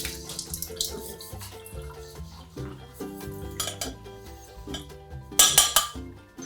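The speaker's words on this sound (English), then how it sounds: "Strain the peas." Cooked peas strained at a kitchen sink, with running tap water, metal pans and a strainer clanking, and a bright splashing rush near the end, all close and fairly loud.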